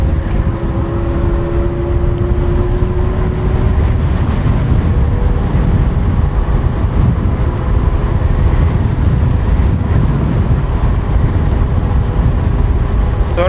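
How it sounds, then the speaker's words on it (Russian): Loud, constant headwind buffeting a microphone on a Kugoo M4 Pro electric scooter riding about 40 km/h, low rumbling roar throughout, alongside a faint whining motor tone rising at the start. "Встречный ветер немножко сбивает меня"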